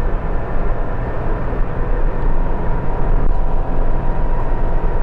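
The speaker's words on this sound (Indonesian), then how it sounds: "mobil yang mau kita top speed adalah Toyota Agya tahun 2023 ya" A 2023 Toyota Agya car driving at top speed, around 120 to 140 km/h, with a steady, loud broadband roar of engine, tyre and wind noise throughout and no voices.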